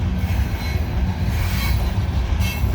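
A heavy CSX coal train of about 200 loaded cars, led by two locomotives, climbs a curving 10-mile grade of about 1 percent: a loud, close, continuous rumble of rolling wheels with squealing flange noise.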